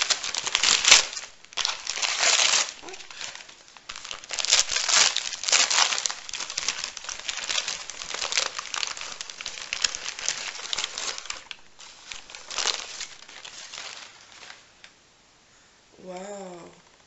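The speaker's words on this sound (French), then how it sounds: "Donc c'est emballé dans du papier." Christmas gift goodies wrapped in paper being unwrapped up close, with sustained loud crinkling and tearing of the paper over about fifteen seconds, fading near the end as a voice speaks briefly.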